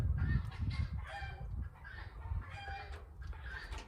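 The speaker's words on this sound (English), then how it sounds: "One of the roosters is going bonkers" Roosters on a homestead crow and squawk in repeated bursts over a few seconds, fairly close and agitated, with no talking.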